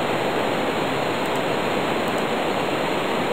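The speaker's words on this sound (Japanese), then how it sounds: "トイレの水がダバダバ。" In the horror game The House, toilet water gushes heavily in a constant loud roar. The flow is unbroken throughout, with no voices over it.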